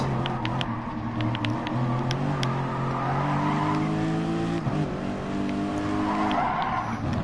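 Race car engine droning steadily with tyres squealing and skidding as the car slides on track in a PS4 racing game, continuous and loud with rising and falling engine pitch.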